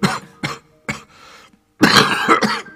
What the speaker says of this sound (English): Suddenly the miner began to cough violently, covering his mouth with a dirty handkerchief.